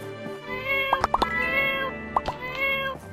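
A cat in the game My Time at Portia gives several short, close meows in quick succession over a steady tonal musical background, with no voices.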